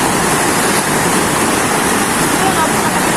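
A rising, flooded river roars with big waves as a loud, continuous rushing wash close by, filling the whole moment without a break.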